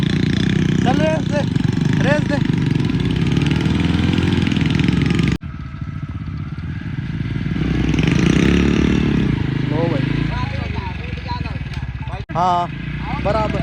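A Hero Splendor motorcycle engine running steadily near at hand, loud and continuous with a slight swell in revs midway. Voices talk over it now and then.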